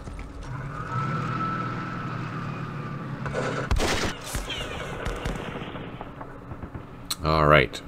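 Artillery strikes at Omaha Beach in Campaign Series West Front, a World War II D-Day strategy game, with a rumbling barrage followed by a few sharp, loud bursts and a final crashing impact.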